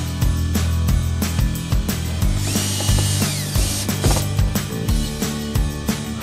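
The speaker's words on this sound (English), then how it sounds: "Pre-drill holes in the exterior door jambs and screw the track into place tight against the door." A power drill whirs in short bursts, pre-drilling holes in an exterior door jamb, separated by sharp knocks and clicks against wood, loud and close.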